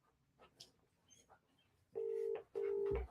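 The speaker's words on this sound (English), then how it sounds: "So I'm just giving him a call." Two sustained dialing tones from a phone placing a call, each lasting about half a second with a short gap between, loud and clear after a stretch of faint background murmur.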